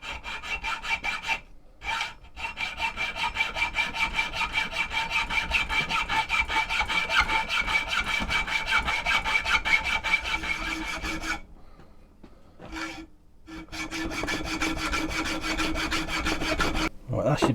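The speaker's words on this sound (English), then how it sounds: "it'll just be cutting this by hand, so I'll just probably cut along that way with a hacksaw" Hand hacksaw rasping through a steel machete blade blank in steady back-and-forth strokes, close and loud, with a few brief pauses between runs of cutting.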